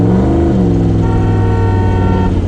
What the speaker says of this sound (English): that's what you need a horn for